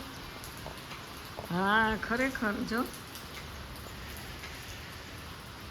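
Steady cold rain hisses in the background throughout while a person speaks a few words briefly in the middle.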